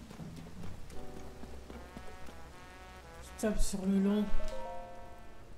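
Rain falls steadily in Zelda: Tears of the Kingdom, a soft continuous patter beneath someone speaking French, with a brief louder game sound near the end.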